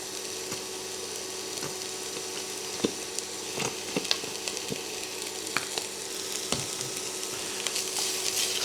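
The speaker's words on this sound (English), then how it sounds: "Once our oil is heated, add 1 whole onion. And 1 tablespoon of garlic." Chopped whole onion and a tablespoon of garlic hit hot oil with a steady close sizzle, broken by occasional scraping stir clicks, no voices.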